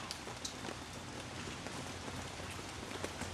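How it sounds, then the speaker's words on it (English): Steady rain falling outdoors on a rainy Halloween day, a continuous dense patter with scattered sharper drop hits, moderately close and uninterrupted, with no voices. "It's raining out."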